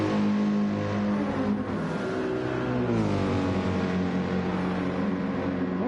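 A Mercedes GT3 race car engine in a racing video game, holding a loud, steady high-revving drone near top speed with slight pitch shifts, alone with no talk.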